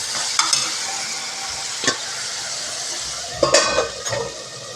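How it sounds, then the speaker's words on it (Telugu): Ginger garlic paste sizzles steadily in hot oil in a pan for gongura curry, a continuous loud frying hiss broken by a few sharp clinks of stirring, with no voices. "ఒక స్పూను అల్లం వెల్లుల్లి పేస్ట్ వేసుకుని ఇది కొంచెం పచ్చివాసన పోయేదాకా ఆయిల్లో మగ్గనిద్దాం"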